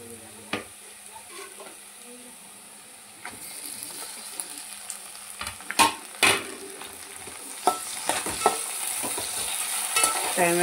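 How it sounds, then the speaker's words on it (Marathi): Chopped onion and tomato fry in a pan with a steady hiss, broken by sharp scrapes and clatters as the mixture is stirred, loudest toward the end. "आपला टोमॅटो कांदा तळून झालेला आहे।"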